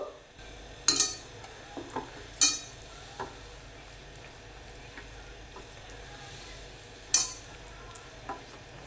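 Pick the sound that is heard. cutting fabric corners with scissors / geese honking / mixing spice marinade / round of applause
mixing spice marinade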